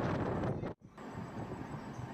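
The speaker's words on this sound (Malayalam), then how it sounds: "നല്ല കാറ്റൊക്കെ അടിക്കുന്നുണ്ട് ഇവിടെ" Strong wind blows steadily across the microphone near wind farms in Tamil Nadu, a loud continuous rush with one brief dropout near the middle.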